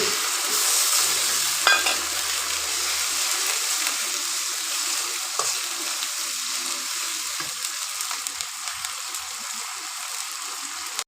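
Tomato paste and spices frying in a pan give a steady, loud sizzle with soft stirring scrapes running through it throughout, alone with no voices.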